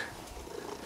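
A pet cat named Whiskers purrs close by, a soft continuous low rumble that holds steady with no talking.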